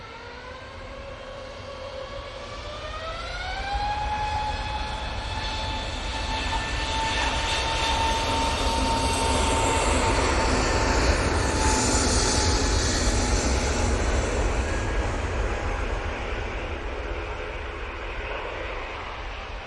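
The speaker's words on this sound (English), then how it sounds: "And there goes the Easyjet off to Montpellier." An EasyJet airliner bound for Montpellier takes off from Manchester Airport, its engines building into a steady loud roar with a rising whine that holds for a long stretch.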